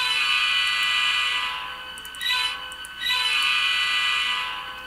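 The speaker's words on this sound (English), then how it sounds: "Horn, which is a P5." A Kato N scale EMD F40PH model locomotive with an ESU Loksound sound decoder plays its P5 horn, a loud, sustained multi-tone blast that dips twice briefly before resuming, with no talking.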